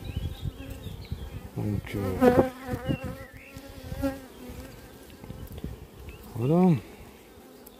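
Honeybee swarm buzzing steadily during a hive inspection, a dense insect hum running throughout, with scattered speech in French and a few louder close passes of bees near the microphone.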